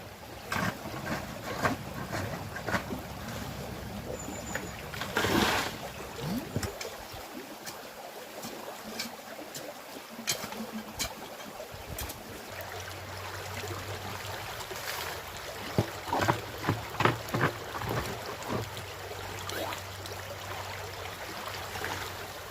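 Steady rushing water runs continuously, washing gravel through a gold panning sluice box on a stream in Cornwall, UK, with brief louder splashes and clatter and a low hum in the background.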